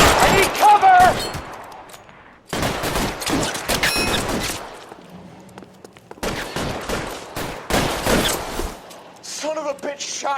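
Gunfire bursts out in bursts of rapid shots during an L.A. Noire shootout, loud and close, trading with shouting voices and falling quiet in short gaps between volleys.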